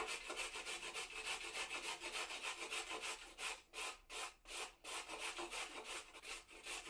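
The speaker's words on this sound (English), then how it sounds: "grating carrots" Carrots grated by hand on a grater, heard up close as a steady run of quick rhythmic rasping strokes with brief pauses toward the end and no voices.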